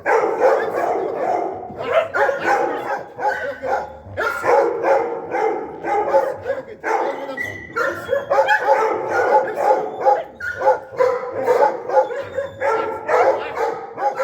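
A guard dog barks repeatedly and loudly during protection training, with rapid, dense volleys of barking and occasional yips continuing almost without pause throughout.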